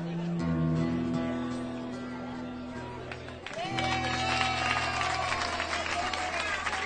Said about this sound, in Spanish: el aplauso es para vosotros